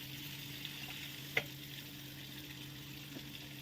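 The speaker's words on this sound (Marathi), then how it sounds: "जो लसूण आपण बारीक चिरून ठेवलेला होता तो आपण ह्या बटरमध्ये घालणार आहोत आणि तो चांगला गोल्डन ब्राऊन करून घेणार आहोत" Minced garlic sizzles in melted butter for dhaba-style palak paneer, a steady, soft frying hiss with one brief clink of a utensil partway through.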